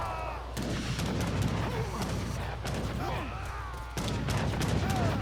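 Musket volleys from Sepoy and Janissary infantry in the Age of Empires 3 video game, Napoleonic era battle, repeated crackling gunfire bursts with sharp onsets around a continuous low rumble, fairly steady and dense, no voice over it.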